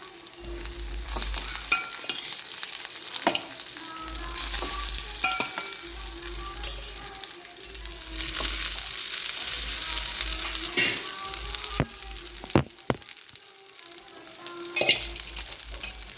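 Cooked rice is stirred and mixed in a pan, giving repeated scraping and shuffling strokes in loose bursts over a soft sizzle, with a few sharp clinks and no voices.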